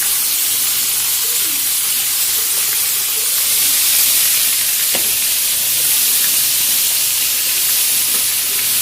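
Taro greens hit hot oil with a spice tempering, throwing out a loud, continuous hiss and sizzle close by, steady throughout with faint stirring clicks.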